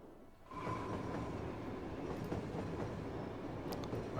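A passenger train rolls along in Cities Skylines, a steady low rumble with faint wheel rattle that swells in after a quiet start and keeps going at a moderate distance, no talking over it.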